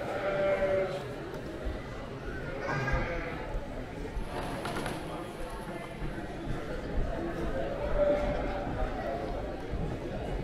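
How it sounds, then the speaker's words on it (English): Sheep bleat at the Royal Adelaide Show 2022, a few calls rising out of a busy crowd hum, with people talking nearby throughout. "many sheep."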